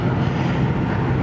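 A steady low engine rumble from a 1995 Honda Accord drones continuously at close range, loud and even with no pauses or other sounds.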